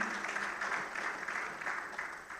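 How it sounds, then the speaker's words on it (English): Applause from an audience at a Nigerian engineering and infrastructure event, a steady, soft wash of many hands clapping heard from a distance, continuing evenly for a couple of seconds with no speech on top. "A round of applause for him."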